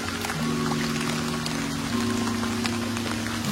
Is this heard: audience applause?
no